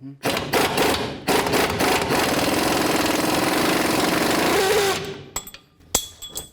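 An impact wrench rattles in a loud, continuous burst of almost five seconds, loosening an upper control arm mounting bolt on a 2006–08 Dodge RAM, followed by short sharp clanks and tool knocks.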